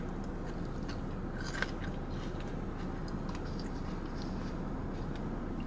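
Close-up crunchy chewing of a Subway salad, a continuous stream of small crisp bites and mastication at low level with one sharper crunch, no talk.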